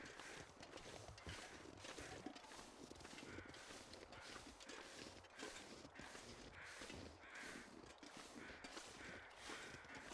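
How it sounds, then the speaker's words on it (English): In the foggy wilderness of the game The Long Dark, crows caw in a regular repeating series, moderately near, over steady crunching footsteps and wind, with no voices. "I can hear crows."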